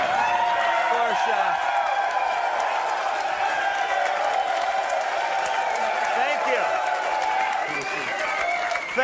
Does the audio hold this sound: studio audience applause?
yes